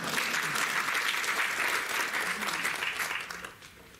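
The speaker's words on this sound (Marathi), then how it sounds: "आपल्यासाठी तरी टाळ्या वाजवूया." An audience at a talk on post-2024 Lok Sabha election challenges for civil-society movements claps steadily for about three seconds before the applause thins and fades out.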